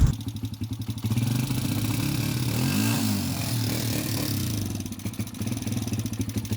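A Motoposh 155 motorcycle engine runs after its CDI was replaced, a loud, close, steady idle with a brief rev swell in the middle.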